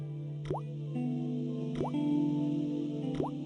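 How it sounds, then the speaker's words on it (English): Slow water drips from a rusty faucet in the Broken Sword point-and-click game: three separate plops land at even intervals over a steady low ambient hum. "The slow drip of water barely dampened the towel."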